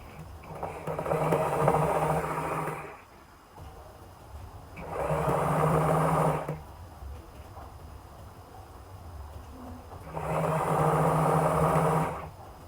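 A sewing machine stitching a net yoke onto fabric, three bursts of rapid whirring a couple of seconds each, separated by quieter pauses, close and fairly loud.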